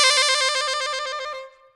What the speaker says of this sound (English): when I trill on the A, I'm going to use the side C, which is this middle side key